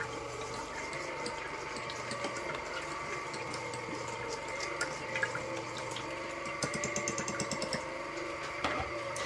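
A Vestaware juicer runs while juicing limes, giving a faint, steady motor whir with liquid trickling and small irregular clicks of pulp in the strainer, with no talk.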